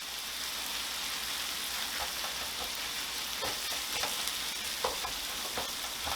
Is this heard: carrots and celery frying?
yes